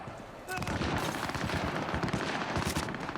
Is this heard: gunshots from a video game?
yes